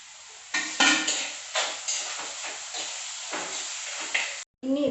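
Tomatoes dropped into a hot frying pan with curry leaves, a loud sizzle bursting on contact, then repeated stirring scrapes and crackling hiss that continue steadily before a brief pause and a fresh burst.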